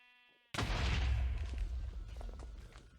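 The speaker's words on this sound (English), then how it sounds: "I don't know how big the explosion's gonna be." A loud explosion of wither skeleton skulls in Minecraft bursts in after a moment of quiet, a heavy booming roar that stays dense and rumbling while slowly fading over the next few seconds.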